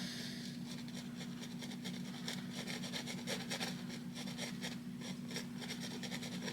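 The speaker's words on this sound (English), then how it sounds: "the more I rub it, the more it will mix with the underpaint, and the darker it'll get" A painting knife rubs oil paint into a wet underpainted canvas in a Bob Ross-style landscape, making a steady close scraping and rasping with quick repeated strokes over a constant low hum.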